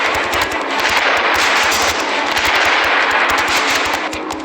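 Rapid automatic gunfire from an armored brigade's tank live-fire combat drill in the Gobi desert, a loud continuous burst of closely spaced shots with no voices.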